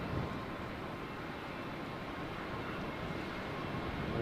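An airliner bound for DFW, wingtips full of fuel, rolls down the runway at Heathrow for takeoff. It gives a broad, steady engine roar and rumble that holds level throughout, heard from a distance.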